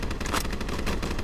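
Enemy soldiers' guns in a Minecraft game fire in a rapid, dense burst of shots, loud and steady for about a second with no voices.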